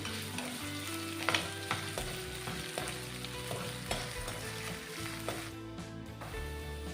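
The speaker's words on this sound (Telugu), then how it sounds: "ఇప్పుడు కొంచెం ఒక కప్పు కందిపప్పు వేస్తున్నా" Toor dal fries in a pan for chutney, a steady sizzle broken by repeated scraping and clinking as it is stirred, close and continuous.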